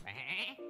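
A single cartoonish sheep bleat from a polymorphed minion in the Hearthstone card game, short, wavering and fairly loud, heard alone.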